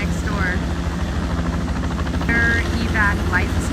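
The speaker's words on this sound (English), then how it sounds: "There's a helicopter taking off right next door." Helicopter of an evac life medical team taking off right next door to a hotel, a steady close rotor and engine drone running throughout, with chirping birds and voices faintly mixed in.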